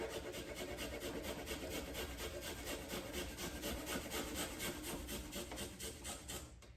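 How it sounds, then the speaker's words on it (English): A garlic clove is grated on a metal lemon zester in a kitchen, a quick, even run of rasping scrapes close by, repeating rhythmically for several seconds before stopping. "I'll grate it with my lemon zester."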